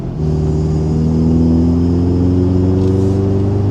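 Loud, steady engine drone from inside a moving Toyota Tacoma pickup fitted with a COBB Accessport, the pitch climbing gradually as it revs up while driving around 45 mph.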